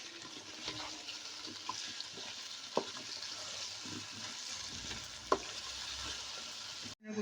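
Chicken and potatoes with cumin and crushed coriander are stirred as they fry for aloo gosht, a faint continuous sizzle broken by occasional light scrapes and taps.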